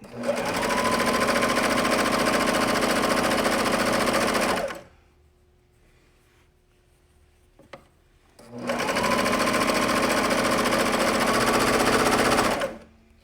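A sewing machine stitches jersey fabric close to the edge of a shirt in two long, steady runs of rapid mechanical whirring, separated by a few seconds of near silence with a small click in between.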